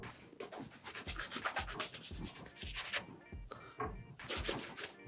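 A leather sneaker being brushed, with rhythmic back-and-forth bristle strokes, close and crisp, about a dozen scrubbing passes alone without speech.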